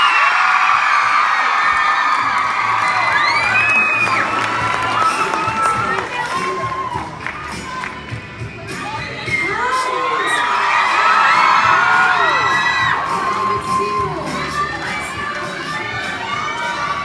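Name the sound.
convention crowd applauding and cheering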